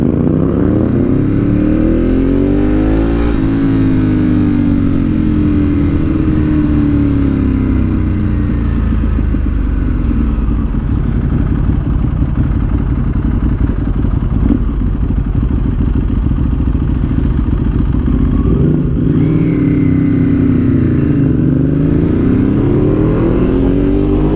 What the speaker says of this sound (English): Your bike is loud, boss man, but it's not as loud as mine.